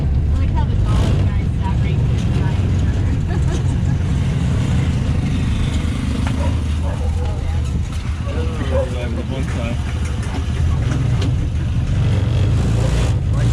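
A tuk-tuk engine drones and rattles steadily close by in Ho Chi Minh City, continuous and loud, with muffled voices mixed under the noise.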